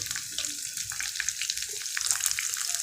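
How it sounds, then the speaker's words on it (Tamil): Crushed garlic frying in hot oil for rasam, a faint, continuous hiss and crackle of sizzling with small irregular pops, quiet and short. "இதுவும் கொஞ்சம் நல்லா அதில் பொரிஞ்சு வரட்டும்"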